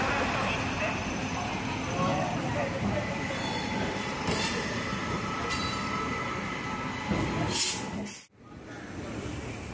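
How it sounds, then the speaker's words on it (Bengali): The Shantiniketan Express pulls out past a local train route between Howrah and Tarakeswar, with a continuous near rolling rumble and clatter, brief wheel squeals and clanks, and a short dip before the noise returns. "তো সামনে বেরোচ্ছে আমাদের শান্তিনিকেতন এক্সপ্রেস"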